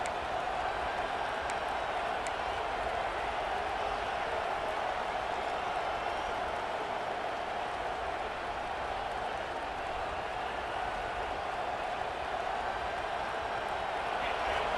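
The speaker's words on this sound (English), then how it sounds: "Listen to the crowd energy here in the early going." Continuous stadium crowd noise from a college football video game, Ohio State vs Washington, a steady roar of cheering voices that holds at an even level throughout, with scattered clapping.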